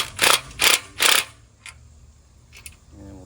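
A 9/16 wrench tightens lock nuts on an aluminum boat trailer rebuild, with three quick, close ratcheting rasps in a row followed by faint clicks and handling noise.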